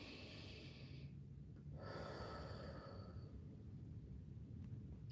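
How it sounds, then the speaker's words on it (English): One slow, deep breath drawn in and let out close to the microphone, a soft breathy rush with a short pause partway through and no talking. "we're going to take our deep breath"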